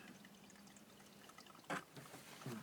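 Water drops and splashes briefly onto a watercolor palette, a quiet patter with one sharper splash and a smaller one after, close and faint in a still room.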